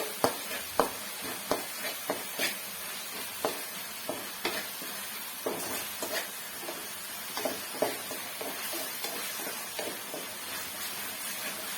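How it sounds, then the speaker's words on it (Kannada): Tomatoes fry in a pan for avalakki upma, giving a steady close sizzle broken by regular scraping stirs, with no talking over it. "ಚೆನ್ನಾಗಿ ಫ್ರೈ ಆಗಬೇಕು ಟೊಮೊಟೊ ಎಲ್ಲ ಸಾಫ್ಟ್ ಆಗ್ಬೇಕು"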